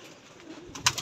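Pigeons coo in a short burst near the end, a soft bird call rising over a quiet background, from a flock of newly trained pigeons kept on a rooftop loft.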